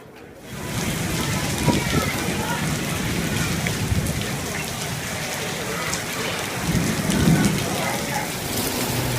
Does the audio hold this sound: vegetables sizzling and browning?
no